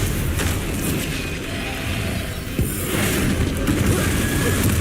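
A Confringo blasting spell goes off in Hogwarts Legacy, with a deep boom and burst rising out of a dense, loud roar of combat noise.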